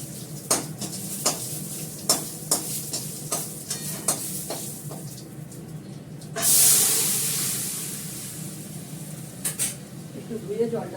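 Whole spices tempering in hot ghee for arhar dal, with asafoetida, cumin and dry chilli. Clicks and stirring scrapes come first, then a sudden loud sizzling hiss takes over as the spices hit the fat, and faint voice sounds come through now and then.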